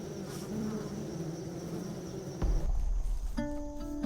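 Honey bees hum around a hive outdoors, a continuous close buzz with a steady drone, joined by a louder low rumble and tonal whine near the end.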